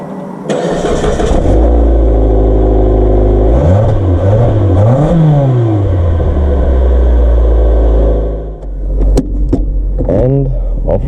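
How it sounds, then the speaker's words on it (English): A car engine cranks and starts, then revs and pulls away loud and close, the engine note rising and falling through the gears before fading near the end. "So let's hop in the car."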